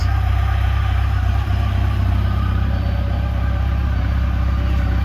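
A Yamaha FJR 1300 motorcycle engine, freshly swapped and run with its automatic shift system unplugged, idles steadily and up close with a constant low rumble, no talking over it.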